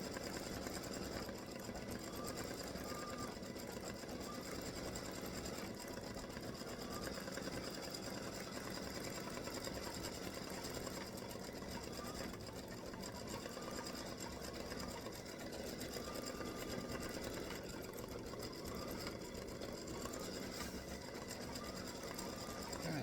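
An embroidery machine stitching a free-standing lace hibiscus flower earring, a continuous fast mechanical whir and needle patter, steady and faint, with no talk over it.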